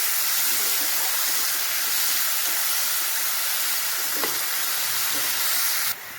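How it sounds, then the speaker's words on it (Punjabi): Crushed spice masala fries in ghee with a steady, loud sizzle and hiss that holds evenly throughout, then drops off abruptly at the very end. "ਹੁਣ ਇਸ ਵਿੱਚ ਕ੍ਰਸ਼ ਕੀਤਾ ਹੋਇਆ ਮਸਾਲਾ ਐਡ ਕਰਾਂਗੇ ਇਸ ਨੂੰ ਚੰਗੀ ਤਰ੍ਹਾਂ ਪਕਾਵਾਂਗੇ ਇਦਾਂ ਘਿਓ ਵਿੱਚ"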